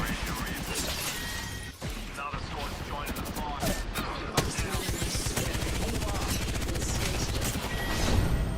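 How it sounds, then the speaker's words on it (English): Rapid, overlapping gunfire from a video game shooter, sharp cracks and bursts packed densely throughout with a few louder booms, heard over continuous game noise and a voice talking. "that's a lot of sniping"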